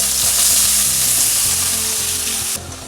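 Chopped banana stem stir-frying with lightly browned onion in a hot pan for thoran, giving a loud, dense sizzle throughout that drops off abruptly near the end.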